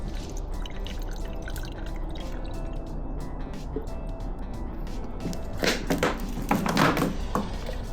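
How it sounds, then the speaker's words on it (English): Water trickles and drips while being poured to fill the cooling system of a 2014 Kawasaki ZX6R motorcycle, a soft close liquid pouring with a louder splashy burst near the end. "Put some water in there, fill that bad boy up."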